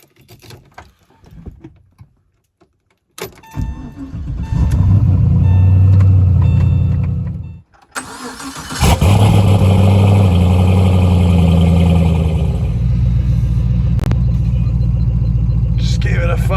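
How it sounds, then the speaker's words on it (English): A Porsche 996 with a twin-turbo LS V8 swap cranks and fires, settles into a loud, deep rumbling idle, briefly cuts out, then restarts and idles steadily up close; someone speaks faintly before the start. "Just gave it a fire up here."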